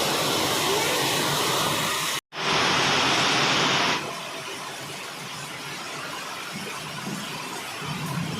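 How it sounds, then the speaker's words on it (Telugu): Heavy rain pours in front of a house as a dense, loud, steady roar of falling water, with a brief dropout and then a slightly quieter continuous wash. "ఇక్కడ కూడా నీళ్ళు పడుతున్నాయి ఇంటి ముందు ఇగో ఫుల్గా పడుతుంది వాన"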